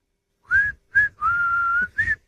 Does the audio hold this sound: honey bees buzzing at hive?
no